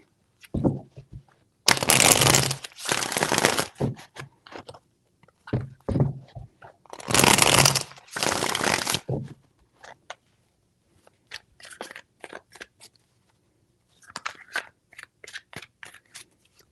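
Several bursts of tarot cards being shuffled close up, crisp riffling flutters separated by pauses, followed by lighter card taps and handling.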